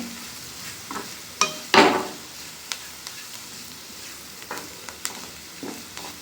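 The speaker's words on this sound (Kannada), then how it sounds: "ಒಂದ್ಸತಿ ಚೆನ್ನಾಗಿ ಮಿಕ್ಸ್ ಮಾಡ್ತಾ ಇದ್ದೀನಿ" Chili powder and salt are stirred into a sizzling mixture in a pan, with scattered scraping and clinking strokes over a soft frying hiss, alone and close.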